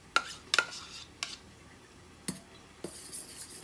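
Potato starch being mixed into gyoza broth, heard as a few sharp metal-on-pot clinks and scrapes spread out, with quieter stirring between them.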